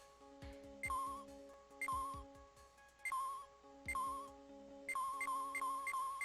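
A cell phone rings in Phoenix Wright: Ace Attorney, a bright electronic melody of repeated chiming notes over a low synthesized backing, sounding in regular phrases that return several times without pause.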